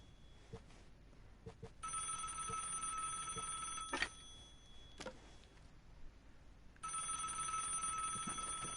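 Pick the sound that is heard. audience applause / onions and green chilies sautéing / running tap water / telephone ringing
telephone ringing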